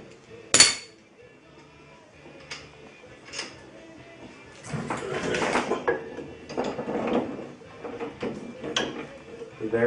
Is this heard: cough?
no